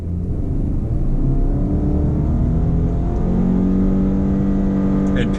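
2024 Subaru Crosstrek Wilderness accelerating hard from a standstill, a loud, continuous engine drone heard from inside the cabin, the pitch rising steadily with revs and no gear breaks, over road rumble.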